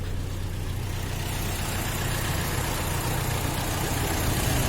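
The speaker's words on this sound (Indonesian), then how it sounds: "Kita langsung aja dengerin suara mesinnya ya." A 2012 Toyota Innova V Luxury automatic petrol car engine idles steadily with a smooth, continuous low rumble, close and constant throughout.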